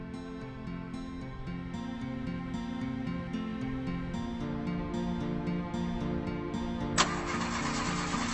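A car engine turns over and keeps running, a steady close rumble with a sudden louder surge near the end, and no voices.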